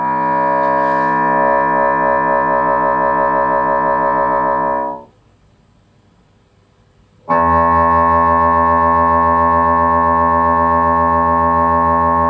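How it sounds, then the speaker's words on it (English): A sustained bassoon tone ring-modulated with a 500 Hz sine wave gives a loud, metallic, inharmonic buzzing drone that stops for about two seconds of near silence, then returns just as steady and strong. "you will hear the same bassoon sound again, but now after it has been ring modulated with a sine wave"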